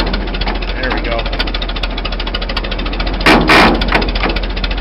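An old tractor engine chugs steadily and loudly up close with a rapid knocking rhythm, and a brief louder burst of mechanical noise comes near the end.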